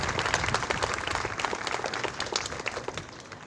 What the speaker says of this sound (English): can we give one more round of applause for these lovely ladies?